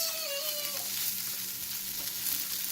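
Arepas frying in butter in a pan give off a steady, close hiss of sizzling that continues without a break.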